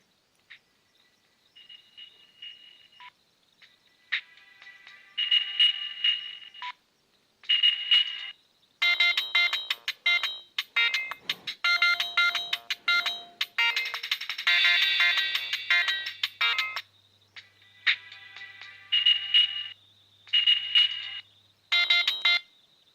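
A series of electronic ringtones from a 2004 Siemens CX70 mobile phone, one after another: chirpy, repeating beeps and melodic trills in separate bursts with short gaps, clear and fairly loud.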